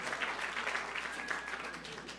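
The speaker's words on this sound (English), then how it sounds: "Yeah, round of applause." Faint, brief round of applause from a small audience at a casual live music and talk event, soft and distant throughout.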